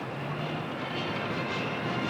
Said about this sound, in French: Et là nous avons donc 3 C-160 qui sont suivis par des hélicoptères.